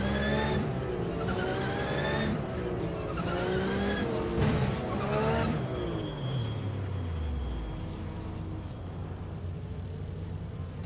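A Porsche Cup race car on a pace lap at Imola in Automobilista, its engine revving up and down through gears close by, then dropping into a falling whine as it slows to a steady idle.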